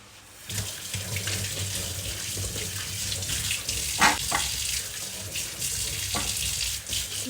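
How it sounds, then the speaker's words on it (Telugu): Tap water runs steadily into a sink while vegetables, including unpeeled carrots, are scrubbed clean under the stream, with a few louder splashes and handling knocks partway through. "ఇవన్నీ ఇప్పుడు నీట్గా కడుక్కుందాం"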